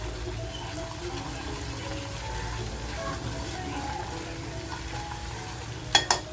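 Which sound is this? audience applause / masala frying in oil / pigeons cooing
masala frying in oil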